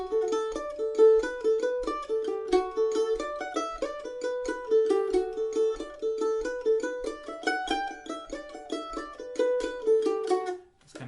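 The Irish jig The Connaughtman's Rambles played on mandolin up to speed: brisk, continuous picked notes with a bouncing jig lilt, close and bright, no talking.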